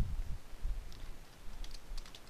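Typing on a computer keyboard while writing SourcePawn code, with soft low clicks and thuds in an uneven rhythm, faint and close.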